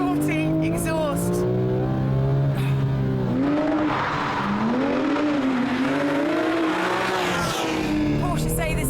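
A Porsche GT3 on track screams through a loud aftermarket exhaust, engine pitch climbing and dropping through gear changes as the car passes close, with tyre squeal and continuous roaring.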